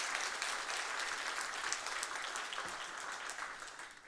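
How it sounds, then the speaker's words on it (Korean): A congregation clapping in church, warm sustained applause that stays steady and gradually fades toward the end, moderately distant. "더 응원하는 의미로 뜨겁게 다시 한번 격려의 박수 부탁드리겠습니다"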